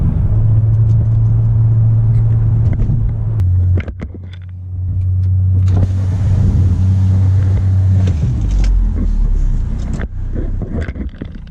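A loud diesel engine in a Mercedes E300 with an OM606 engine drones and revs close by, rising and falling with a heavy low rumble, then a brief dip and another surge; no voices.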